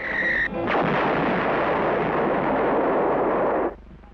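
An old-timey cartoon bomb from Batfink goes off in one loud, sustained blast that roars for about three seconds before cutting off abruptly, preceded by a brief whistling tone.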